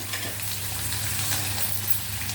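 Omelette frying in a pan on high flame, a steady close sizzle with a faint hiss and low hum, even and unbroken for the short stretch.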